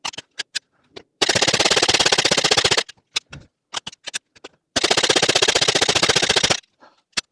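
A firearm fires rounds in two long rapid strings of shots, loud and close, separated and bracketed by scattered single cracks and clicks, with no voices.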